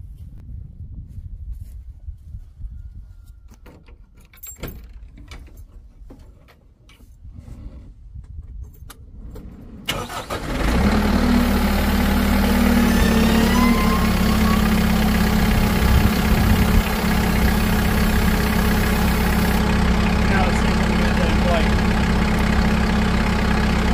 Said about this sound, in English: get the tractor cranked up and we'll hopefully be able to pick it up